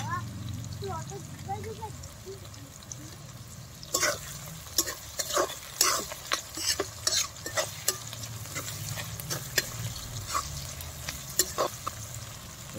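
Chicken broth with tomato is stirred and fried in a pan, giving a steady sizzle under a series of scraping spatula strokes. Someone talks over the cooking at first, and the stirring then grows busier and more rhythmic.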